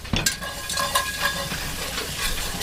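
Flour being stirred into hot pan drippings to make a roux for Salisbury steak, with a spoon scraping and clicking against the pan over a continuous sizzle, close and fairly loud, no voices.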